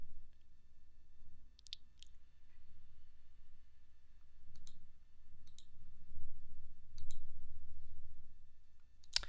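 Sharp mouse clicks in scattered pairs and singles, each crisp and close, while a Java application is started from a development environment over a low steady room hum; no talking.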